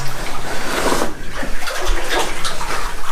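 Wellington boots wade through cold, shallow water inside an abandoned Welsh silver, zinc and lead mine, giving a steady close sloshing and splashing with no break.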